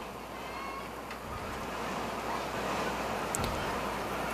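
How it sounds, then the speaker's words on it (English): Wind gusts across an outdoor softball field during a game, a steady broad rushing roar buffeting the microphone, rising slightly toward the end with a faint distant knock. "That wind just blowing everything it can get."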